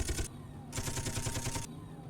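Ship guns in the video game Space Engineers fire two rapid bursts of dense, crackling automatic shots, the second burst longer, loud and up front with a short pause between.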